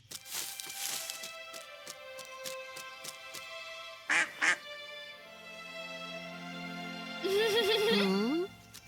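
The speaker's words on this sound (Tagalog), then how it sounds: "Isang maliit na pato lang pala." A few short quacks from a small duck near the end, following a pair of brief bursts and scattered clicks in a quiet setting.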